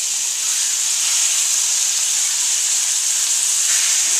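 A steady bright hiss of chicken browning in a hot pan, sizzling evenly and close without a break, with no one talking.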